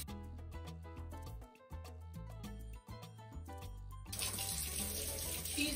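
A tap runs steadily while a dog is bathed, close and continuous under background music, with the water growing louder and more hissing near the end.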